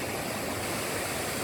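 Clear water of Reggae River in Jamaica rushing steadily, a dense, even broadband wash with no pauses, moderately loud and close, no voices.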